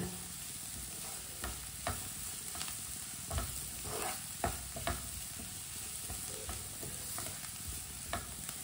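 Vegetables for kebabs sizzle softly in a pan while a spoon stirs them, producing repeated scraping clacks over a steady low frying hiss, close by and without talk.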